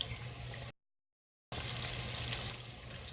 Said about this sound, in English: the onions are cooking so great